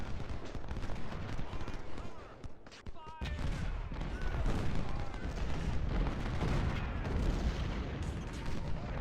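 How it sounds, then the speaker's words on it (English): Cannon and artillery fire booms repeatedly across a Civil War battlefield in Ultimate General: Civil War, a dense, rumbling barrage with overlapping blasts and crackling musketry that briefly thins before swelling again. "Enemy also has artillery in this wood line here."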